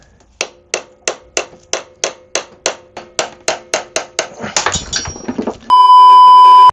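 Someone strikes a motorcycle's stubborn rear axle nut with a hammer. About fifteen sharp, evenly paced metallic blows ring out close and loud, speeding into a quick flurry before a steady electronic tone takes over at the end.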